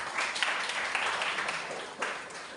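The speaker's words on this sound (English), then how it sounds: "Give a huge round of applause to them." An audience at a career counselling session for CBSE 10th standard students applauds, giving a faint, steady patter of clapping from many hands that lasts throughout.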